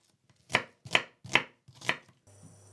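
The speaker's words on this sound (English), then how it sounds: "And just chop up your onion." A knife chops through small onions on a board in four sharp, evenly spaced cuts that land close and crisp, followed by a faint hum.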